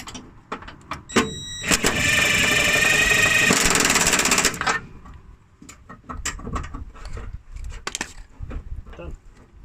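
An impact wrench tightens a nut and washer on the underside of an OMP subframe on a Renault Twingo, rattling in one sustained burst of about three seconds amid clanks of tools.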